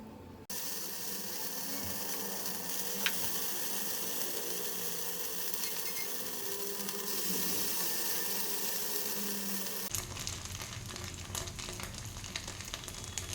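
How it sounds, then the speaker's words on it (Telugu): Small balls of flattened rice coated in idli batter fry steadily in hot oil, a continuous dense sizzle that shifts in tone partway through, with no voices. "ఈ అటుకులను ఇలా చిన్న ముద్దలాగా చేసుకొని ఇందులో వేసేసుకొని ఫ్రై చేసేసుకోవాలి"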